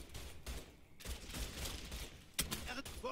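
Pistol gunfire crackles through the action of Mafia 3, a ragged volley of distant shots and impacts, faint and muffled with no clear talk.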